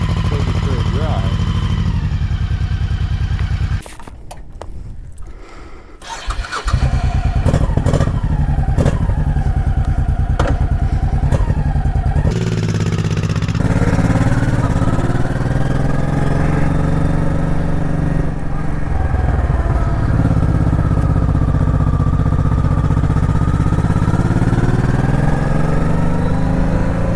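A 2007 Honda Shadow Spirit VT1100C V-twin cruiser idles with a rumbling, clattery engine, goes briefly quieter, then revs and pulls away on a street drive, its loud steady drone continuing with wind noise.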